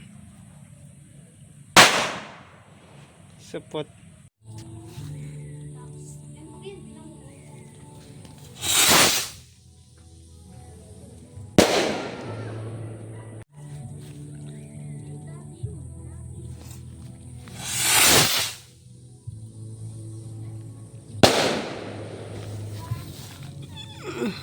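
Lolo Thunder firecracker test firing, several sharp loud blasts at irregular intervals, some followed by hissing fizz, with someone speaking between them outdoors.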